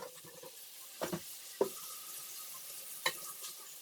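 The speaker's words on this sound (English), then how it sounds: "And there I put the mushrooms in" Mushrooms go into a pan with onions and garlic already cooked, giving a faint low sizzle broken by a few sharp knocks and scrapes.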